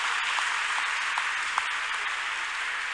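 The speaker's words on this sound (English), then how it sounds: "Clap unto this God of choosing." A church congregation claps together in a continuous, even patter of many hands, fairly loud and sustained, with no speech over it.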